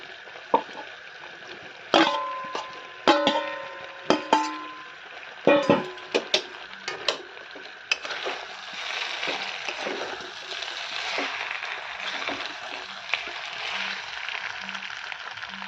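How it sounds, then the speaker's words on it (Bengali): Goat meat and potatoes frying in a pan, with a steady sizzle under a series of sharp clattering stirs and scrapes near the start, then continuous frying hiss. "এবার আমি আলুগুলো দিয়ে দিচ্ছি। আলুগুলো দেওয়ার পরে আর খানিকক্ষণ কষিয়ে নেব।"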